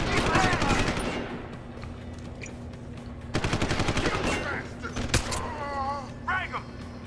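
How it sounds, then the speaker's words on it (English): Gunfire in Deus Ex: Human Revolution, with bursts of sharp shots and a rapid automatic volley midway, mixed with clanks and other game effects in a fairly busy battle scene. "Serves you right for shooting at me."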